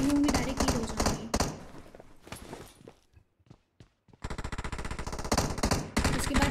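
Gunfire in PUBG Mobile on the Livik map, with rapid automatic bursts of close, loud shots, a quieter stretch of scattered single taps and near silence, then more sustained bursts of fire.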